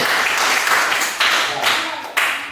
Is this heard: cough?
no